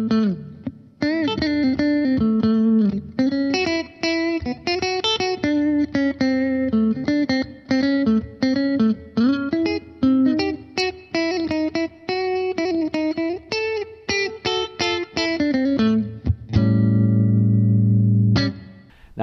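An electric guitar plays a blues solo built on triad moves through effects with distortion and reverb, with quick runs of bent and picked notes, short gaps between phrases, and a final sustained chord ringing out.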